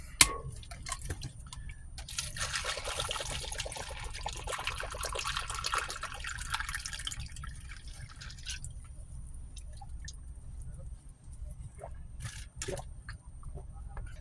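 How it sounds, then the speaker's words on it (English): Monster Rehab energy drink poured into a cup, a steady close liquid stream for several seconds that thins out, followed by a few faint drips and light clicks. "So I'm going to go ahead and pour this in my cup here and get started."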